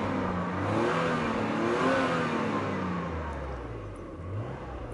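A Mercedes-Benz car engine running, close and steady, with a smooth revving rise and fall before it settles toward idle, heard alone.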